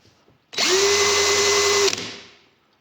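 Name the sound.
Parkside PABS 20 Li G8 cordless drill running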